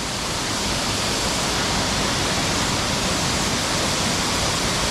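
Steady, dense roar of a waterfall at Sam Neua in Laos, heard at a picnic spot. The broad rushing wash stays loud and even throughout, with no voices over it.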